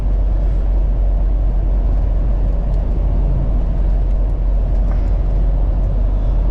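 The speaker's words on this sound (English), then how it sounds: "This thing is one smooth driving little motorhome." A 2011 Coachmen Freelander 210 mini Class C motorhome on a Chevrolet chassis cruises at about 65 mph on cruise control, giving a loud, steady low road and engine rumble with constant cabin noise throughout.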